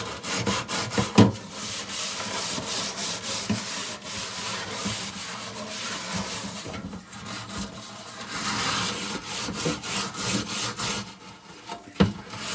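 Food is scrubbed by hand while preparing corned beef and cabbage, a close, continuous rough rubbing with repeated strokes and a few sharp knocks, heard alone.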